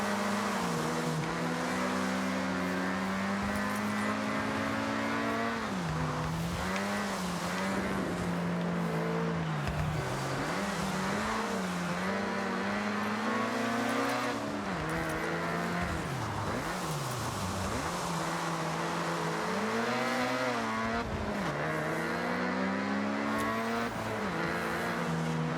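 A Mazda RX-7 in the Forza Horizon 6 racing game revs hard and continuously through touge mountain-road runs, its engine note rising and falling with gear changes and occasional tire squeal, loud and close throughout.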